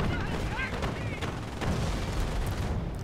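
Pak anti-tank guns fire in Company of Heroes amid sustained battlefield din, repeated sharp shots and explosions over rumbling gunfire, with a voice talking underneath.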